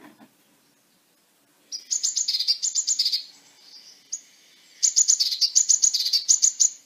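Blue tit calls, clear close chirps in two rapid churring series separated by a short gap, with a faint softer call between them and a quiet background.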